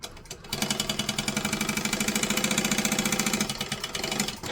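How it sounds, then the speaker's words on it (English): Sewing machine top stitching a pouch, running in a fast, even mechanical chatter after a brief start, steady and close with no talking. "And then we're going to top stitch along here too."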